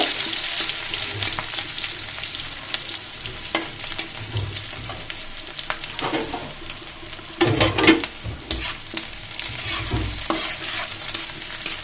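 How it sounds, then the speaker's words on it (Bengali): Minced garlic and onions sizzle steadily in hot oil in a pan, with repeated scraping stirs and a few louder clatters of the spatula throughout, close and continuous with no talking. "দিয়ে দিলাম কয়েকটা রসুন কুচি, তারপর দিব বেশ কিছু পেঁয়াজ, দিয়ে আমি সুন্দর করে নেড়ে চেড়ে দিব।"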